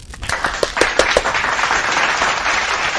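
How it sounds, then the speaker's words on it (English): A short burst of applause, a few distinct claps at first swelling into steady clapping from a small group. "let's give a shout out applause to everyone"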